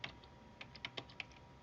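Quiet, close typing on a computer keyboard, with a handful of soft, irregular keystrokes tapping out a short directory name against faint room hiss.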